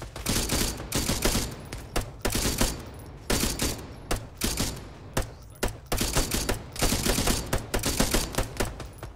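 Heavy gunfire in Arma 3 during a combined-arms operation, dense bursts of rifle and machine-gun shots in repeated volleys, some close and loud, others echoing farther off, with brief gaps between.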